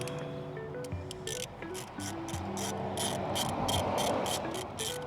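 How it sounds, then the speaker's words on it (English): Ratchet socket clicking steadily as a new spark plug is threaded into a Toyota 5VZ-FE V6 engine in a 4Runner or Tacoma, a fast, even run of sharp close ticks lasting the whole stretch with no talk. "Final new plug. Down into the hole. Chase it with the socket."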